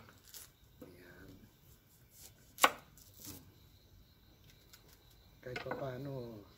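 Garlic chopped on a cutting board while cooking menudo, a few soft, sparse knife taps with one sharp louder strike, under quiet talk in Filipino.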